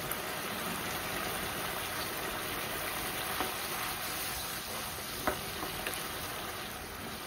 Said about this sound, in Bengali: মশলাটা কষানো হচ্ছে, হালকা দিয়ে দিচ্ছি চিনি, আর দিয়ে দেবো হলো একটু তেঁতুল।